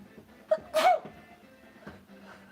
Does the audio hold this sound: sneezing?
yes